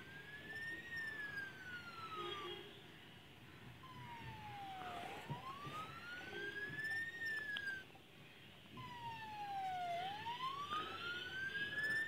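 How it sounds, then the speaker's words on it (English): In the city-building game Theo Town, ambulance sirens wail in repeated slow up-and-down sweeps, sometimes overlapping, fairly faint against a low hum of city traffic ambience. "Ambulance are coming and helping the people."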